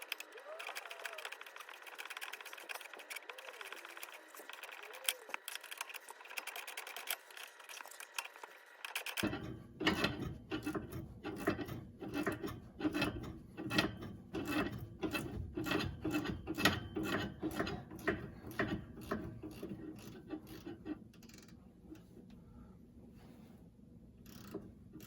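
Rapid rhythmic ratcheting from a hand ratchet wrench working loose the front sway bar end link on a Honda Pilot, steady repeated clicks close by after a quieter opening, with no talking.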